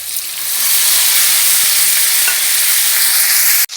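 Chopped tomatoes hit hot oil in a wok holding fried onions with turmeric and salt, setting off a loud, steady, close sizzle that hisses on without a break, then cuts off abruptly.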